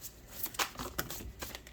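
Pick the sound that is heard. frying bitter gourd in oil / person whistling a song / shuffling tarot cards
shuffling tarot cards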